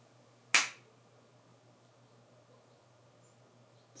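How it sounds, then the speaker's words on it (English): A single sharp finger snap rings out close and crisp in a quiet room, then the room stays near silent until another faint click at the very end. "When I snap my fingers."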